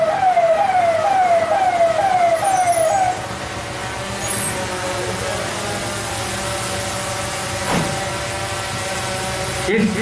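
A fire brigade vehicle siren sounds during a fire mock drill at a pesticide company in Vidisha district: a rising and falling wail for a few seconds, followed by engine noise and background clatter.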